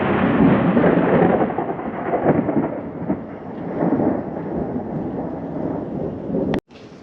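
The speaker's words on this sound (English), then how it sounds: "I woke up to the sound of amazing thunder" Loud thunder rolling through a June thunderstorm at dawn, a long rumbling roar that swells and fades over several seconds before cutting off abruptly.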